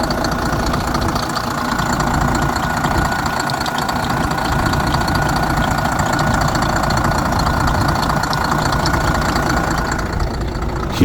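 A 12.5 litre straight-six turbo diesel idles steadily and loudly nearby, a gruff, knocking rumble with constant vibration that never changes pace.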